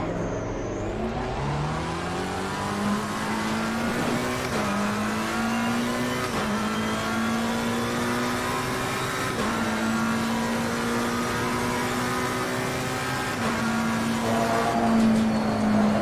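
A race car engine in Assetto Corsa Competizione revs hard and climbs through the gears, with its steady droning pitch dropping at each shift several times; the engine is loud and close, with no talking.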